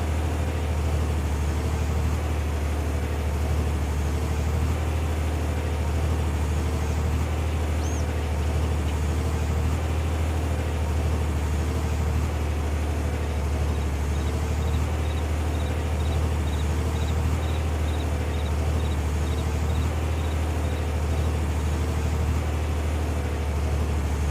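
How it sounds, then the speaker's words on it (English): A tractor pulling a baler in a multiplayer farming video game, set in Huron County, runs as a loud, steady mechanical drone with a deep low rumble that holds unchanged throughout, with no talking. "Is it the tractor that's noisy? It's the baler."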